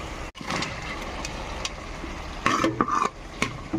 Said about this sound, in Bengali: মশলা থেকে তেল ছেড়ে দিয়েছে, এখন আমি ভেজে রাখা আলু আর উচ্ছে দিয়ে দেব।